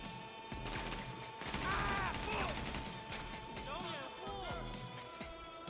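Gunfire in a video game, rapid bursts of shots crackling in a busy mix alongside someone talking over the action.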